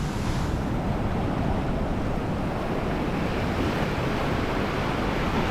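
Ocean surf rolls in at Orange Beach with a continuous broad roar, steady and loud, mixed with wind buffeting the microphone.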